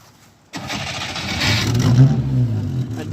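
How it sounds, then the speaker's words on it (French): After a second of quiet, a Simca Aronde car engine catches abruptly in winter cold and settles into a rough, steady idle with light revving, close and loud. "Là, démarre-nous l'auto là."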